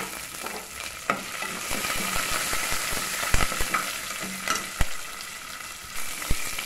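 Curry leaves with dried red and green chillies frying in hot oil as a tempering for arisi paruppu sadham, giving a steady close sizzle with scattered sharp crackles and pops and no talking.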